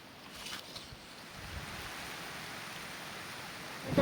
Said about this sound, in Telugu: వాన